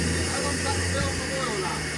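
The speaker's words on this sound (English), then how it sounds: "got steam to the injector" Steam hisses steadily into the injector of a steam locomotive as boiler pressure is released, a continuous broadband rush that stays loud throughout.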